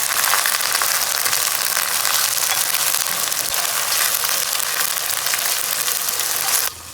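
Ginger frying in hot oil for a Nellore fish curry, a steady loud sizzle close up that holds evenly for several seconds, then drops abruptly in level near the end.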